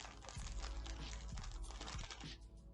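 A chocolate Twinkie's plastic wrapper is torn open up close, quiet crinkling and crackling in short bursts with a few sharp snaps, no talking.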